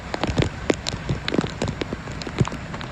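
Heavy typhoon rain in Keelung pattering and splashing on surfaces, a dense irregular crackle of close drops with no voices.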